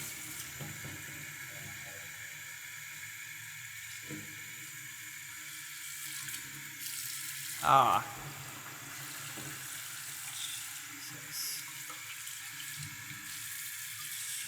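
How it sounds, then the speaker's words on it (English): Tap water runs steadily over an iPhone 11 frozen in a block of Coca-Cola, a low continuous hiss interrupted by one sharp knock or clatter, with a brief exclamation from a voice. "Let's just run some water on it."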